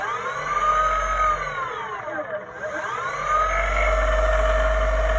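Brushless DC skateboard motors driven by an ESC whine steadily, the pitch sweeping down as they coast, dipping to near stillness, then rising again into a sustained electric hum.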